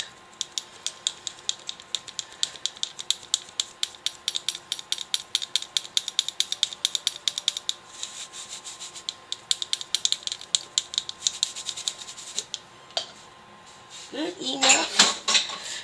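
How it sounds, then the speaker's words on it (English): A heavy wire whisk beats lemon loaf cake batter in a mixing bowl, rapid rattling clinks against the bowl repeating steadily, close and fairly loud, pausing briefly before a burst of handling noise at the end. "And then whisk, whisk, whisk until it's all completely and totally blended."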